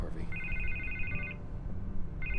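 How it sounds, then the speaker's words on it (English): A telephone rings in the video game Batman: The Telltale Series, two bursts of a bright electronic trill separated by a short gap, heard beneath low background sound. "I can't get the phone to stop ringing"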